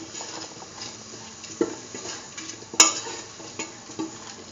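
A green tomato and coconut dip mixture being stirred in a pan over a flame, soft scraping and light sizzling with a few sharper spoon clinks against the pan, close and fairly quiet.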